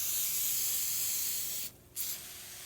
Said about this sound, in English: I just spray it very heavily.